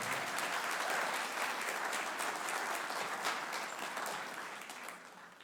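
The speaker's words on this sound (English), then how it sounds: "a big round of applause to our high school group for doing so well" An audience at a high school spring band concert applauds steadily, the dense clapping fading slightly toward the end, heard at a moderate distance.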